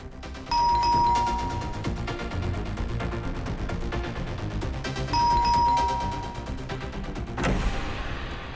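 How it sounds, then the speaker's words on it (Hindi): A doorbell chimes twice in two separate rings a few seconds apart, loud and close, over a background of steady music coming from a party indoors. "कितना घंटी बजाते हो?"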